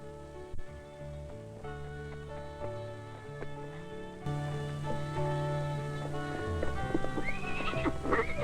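A horse neighs loudly over a backing of music, with hooves clip-clopping in rhythm, the whinny rising high near the end.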